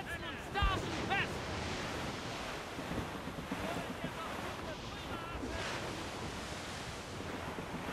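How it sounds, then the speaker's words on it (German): Heavy sea in the naval video game Assassin's Creed Rogue: a continuous roar of crashing waves and wind across the whole stretch, with a sailing ship's creaks and a brief voice under the surf. "Starker Seegang."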